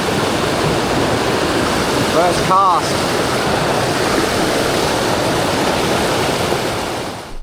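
Water rushes steadily in a river in the Victorian High Country, a loud, constant broadband roar. Someone speaks briefly partway through.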